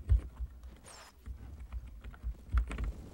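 Horse hooves in the video game Mount & Blade: Warband clip-clop irregularly at a moderate pace, a series of dull thuds with a brief faint whoosh partway through.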